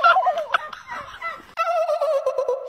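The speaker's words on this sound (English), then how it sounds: "There's no way those are wild turkeys." Wild turkeys gobble loudly and close by in Appalachia, a burst of rapid warbling calls followed by a second sustained gobbling bout, with no talking over it.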